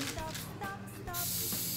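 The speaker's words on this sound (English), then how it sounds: "you're gonna take this and spray this on here, okay?" Cooking spray hisses onto cinnamon buns in a kitchen, a short burst followed by a longer, steady spray nearby, with voices briefly talking before it.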